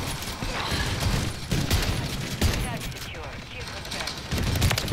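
Reclaimer 18 shotgun blasts in a video game, heavy booming shots recurring every second or so amid continuous game noise, with a voice talking over them.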